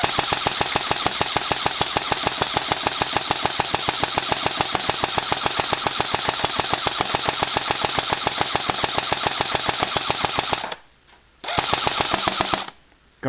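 An ICS M4A1 airsoft rifle firing on full auto, a loud, rapid, even stream of mechanical shots that runs for about ten seconds, breaks off, resumes in a short burst and then stops as the magazine empties.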